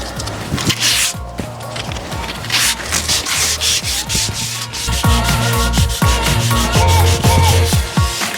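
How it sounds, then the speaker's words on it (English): Hand sanding a thrifted wooden side table with 120 grit sandpaper, loud close rhythmic back-and-forth rasping strokes that speed up toward the end. "I'm starting out with like a 120 grit, and then I'll go to a 320 grit eventually."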